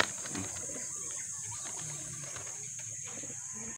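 Soft, low racing pigeon coos repeat under a constant high-pitched whine and faint background noise, the birds sounding fairly close.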